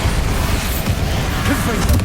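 A Bombarda explosion spell goes off in Hogwarts Legacy: a short, dense, booming roar of blasts and bursts fills the whole moment, loud and close, with a voice mixed faintly into the din.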